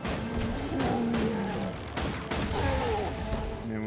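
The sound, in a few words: gunfire from an Engineer in the video game Guild Wars 2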